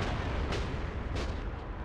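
Artillery fire in Men of War: Assault Squad 2, Cold War mod, a dense, continuous roar of battle with a couple of sharper blasts punching through, loud and unbroken.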